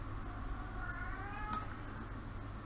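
A cat whining after waking from a nap, a faint drawn-out meow rising in pitch over a steady low room hum, heard alone without talk.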